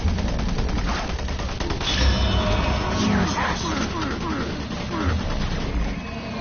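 Automated turret guns open fire in the sci-fi shooter Doom 3, bursts of rapid gunfire and crashing impacts layered over a dense, busy game soundscape that includes some voice.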